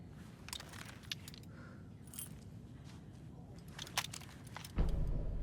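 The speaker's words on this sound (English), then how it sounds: "You'll need these keys." Keys jangle in the video game Alan Wake 2, a few light metallic clinks scattered over a low ambient game hum, with a heavier thud near the end.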